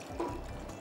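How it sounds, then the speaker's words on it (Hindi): Water poured from a vessel into a pressure cooker while cooking spicy tikka biryani at home, a brief soft splashing fill lasting under a second with no talk over it. "डालिएगा अभी बेटा पानी, और मज़ीद पानी।"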